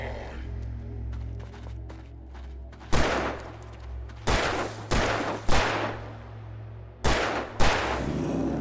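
Several loud gunshots from a gun fired in the video game Alan Wake, coming as single sharp blasts and quick pairs over a low droning ambient background, with no talking.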